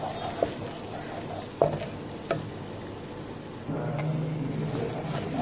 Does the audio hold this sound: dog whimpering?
no